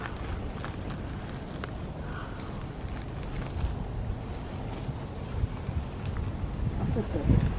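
Wind blowing across a microphone by a bridge on the Chattahoochee Riverwalk, a steady rumbling buffet that builds toward the end, with no clear talk.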